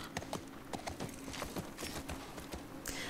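Rhythmic clip-clop of a horse's hooves during a ride in the video game The Last of Us, a steady close trot of soft thuds over low game ambience, with no talk.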